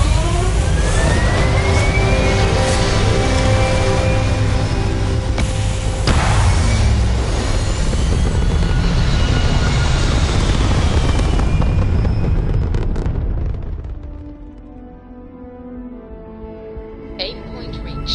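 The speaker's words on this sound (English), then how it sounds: "We have liftoff." A Starship rocket lifts off in a video game with a loud, sustained roaring rumble that fades after about thirteen seconds into a quieter hiss, with a brief sound near the end.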